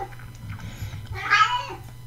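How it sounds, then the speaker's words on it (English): An 18-year-old cat meows once, close and fairly quiet, a short vocal cry rising in the middle of a soft low hum. "My cat's name is Zach"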